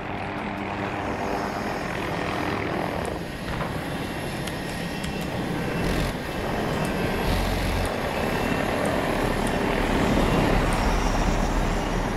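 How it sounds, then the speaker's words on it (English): A helicopter in the video game Battlefield drones continuously with a loud, steady rotor and engine roar, thick and unbroken throughout. "I got the helicopter."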